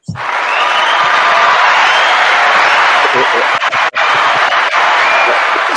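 A podcast audience claps and cheers in a loud, steady wash that rises at once and holds throughout, with voices mixed in.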